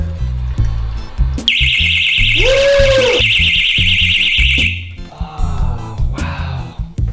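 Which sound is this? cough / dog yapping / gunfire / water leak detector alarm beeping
water leak detector alarm beeping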